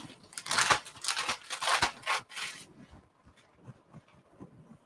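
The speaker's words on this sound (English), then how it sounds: "put your thumbs in the middle where that core was and just break it apart" Lettuce head pulled apart by hand at the cored center, giving a run of crisp crunching, tearing snaps up close, then quieter rustling handling.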